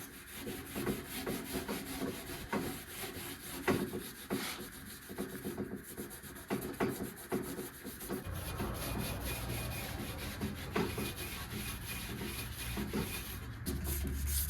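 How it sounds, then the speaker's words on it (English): Abrasive scuff pad scrubbing the door jamb of a 1979 Plymouth Volare wagon ahead of painting, a steady close-up rubbing and scraping that carries on throughout with uneven bursts of strokes. "Just run the scuff pad in here, call it a day."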